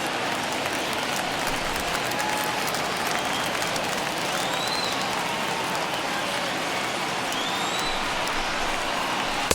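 Baseball stadium crowd of about 39,000 in the MLB The Show 21 game, a dense, continuous roar of cheering and applause with no gaps, moderately loud and steady throughout.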